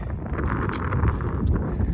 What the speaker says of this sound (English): Sorry about the noise, the wind, not too much.